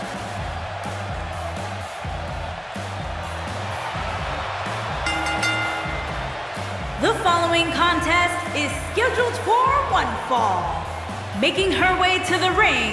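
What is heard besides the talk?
crowd cheering in WWE 2K18 video game arena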